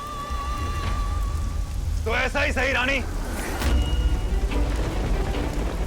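Steady rain falls outdoors in a Hindi TV drama scene, a continuous broadband hiss running throughout at close range while people talk over it.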